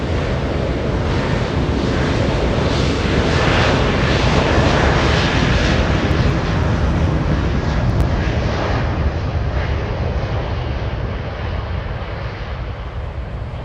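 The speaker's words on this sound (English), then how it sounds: "Turkish 10 flying to Istanbul, flying out of here using 24 lap for departure" Turkish Airlines jet departing Los Angeles International Airport on runway 24 bound for Istanbul, a loud steady broadband engine roar that holds for the whole stretch and eases off slightly near the end, with no talk.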